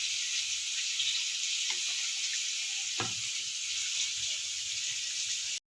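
Potatoes fry in mustard oil in a kadai, giving a steady, soft, even sizzle that is heard close up. A couple of faint knocks break through it, and no one speaks.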